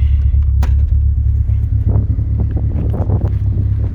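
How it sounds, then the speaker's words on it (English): A car engine idles steadily outdoors with a deep, constant low rumble, heard from outside the vehicle, with gusty wind buffeting the microphone throughout. "That's what the car sounds like outside."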